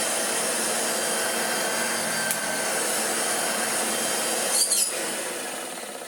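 An old Hoover Junior U1040 upright vacuum cleaner running, a steady loud motor whir and airflow rush throughout, close by, with a brief rattle near the end.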